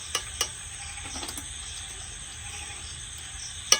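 Crispy chicken pakoras frying in hot oil, a faint steady sizzle with a few sharp clinks of a utensil at the start and end.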